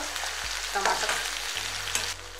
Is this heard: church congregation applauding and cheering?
no